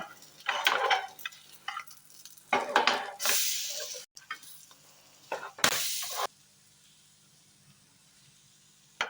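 A tomato bread omelette fries in a pan and is flipped, with bursts of sizzling and clattering scrapes in uneven clumps, then quiet near the end.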